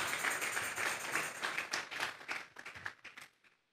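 A church congregation offers up a round of clapping in worship, fairly quiet, dense at first, then breaking into sparser individual claps that trail off into silence near the end.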